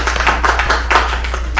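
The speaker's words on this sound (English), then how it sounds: "Applaud yourself right now." A live audience claps together at an end-of-life talk, a dense roomful of hands giving bursts of applause that swell and dip over a steady low hum.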